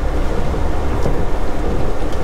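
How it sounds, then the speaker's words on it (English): Steady hiss of rain falling, a dense, even patter with no voices. "The only bad thing is that it's raining."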